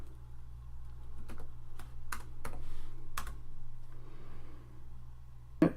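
Keys clatter on a computer keyboard while typing into MATLAB, a sparse run of distinct close taps over a quiet room hum.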